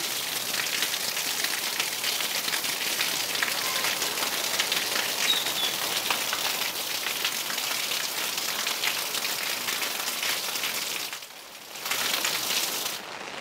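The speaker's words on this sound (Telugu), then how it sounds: "ప్రస్తుతం హైదరాబాద్ లో సడన్ రెయిన్స్, ఒకవైపు కుండపోత వాన పడుతుంది" Heavy rain pours down in Hyderabad, a dense, steady hiss of downpour on surfaces that stays loud and continuous, dipping briefly near the end before returning at full strength.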